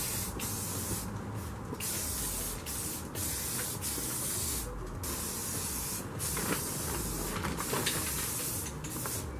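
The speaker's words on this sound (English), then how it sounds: "I'm going to take some of this automotive primer and spray some of the bare metal" Automotive primer is sprayed from a can onto the bare metal of a 1965 Jeep CJ5, a close, steady hiss in repeated bursts separated by brief pauses, with no talk.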